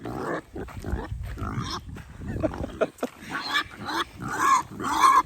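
A pig grunts and snorts repeatedly up close, in rough bursts with short pauses, growing louder toward the end.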